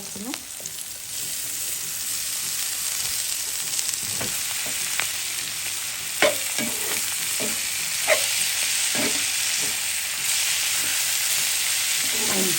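Spinach greens frying in oil in a pan make a steady, close sizzle throughout, with occasional sharp pops and crackles and a few stirring scrapes, with no talking.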